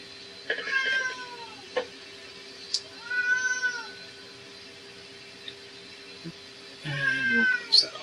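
A house cat meows repeatedly near a workbench during a gaming notebook motherboard replacement, several distinct rising and falling cries spaced a few seconds apart over a faint steady hum.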